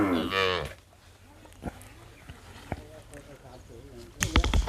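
Beef cattle cow with her four-month-old bull calf, loud close moo at the start, then quieter low mooing and farm noise under faint talk, and a burst of clattering at the end.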